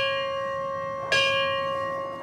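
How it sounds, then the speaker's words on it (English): A single bell strike at a firefighter's funeral in Ballardsville, one clear ringing tone with a sustained hum fading slowly, heard alone. "There was the ringing of the bell"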